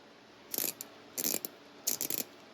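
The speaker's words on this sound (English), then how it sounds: "little bitty ratchet" A small Husky hand ratchet clicks roughly in three quick bursts of grinding pawl clicks with short pauses between, close up and fairly quiet.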